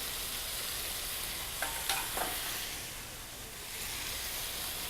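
Chicken, thinly sliced carrots, broccoli and cauliflower are stir-fried in a hot pan, with a steady broad sizzle and a few brief clinks of stirring partway through.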